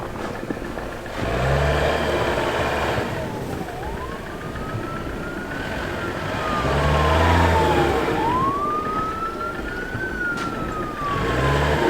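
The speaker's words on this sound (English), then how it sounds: "Ambulance coming, let's go." An ambulance siren wailing on a New York City street, its tone sweeping up and down in slow cycles over steady traffic rumble, moderately loud and drawing nearer.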